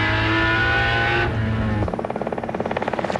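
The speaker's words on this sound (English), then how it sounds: "This is where the Jaguars really power down." Jaguar race cars at Bathurst's Mount Panorama circuit powering hard out of a corner, a loud engine roar that shifts into a rapid pulsing rasp as the cars accelerate past.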